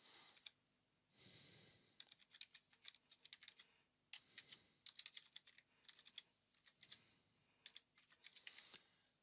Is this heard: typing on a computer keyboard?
yes